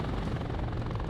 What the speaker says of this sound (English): And our attack helicopter is responding here.